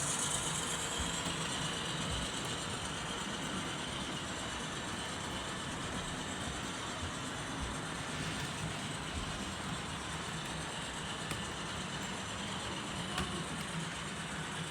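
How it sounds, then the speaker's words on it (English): A model train rolls along a home layout past a grain elevator complex, giving a steady, faint mechanical whir and rattle of running gear that continues evenly throughout with no talking. "And the train is making its way past the grain elevator complex,"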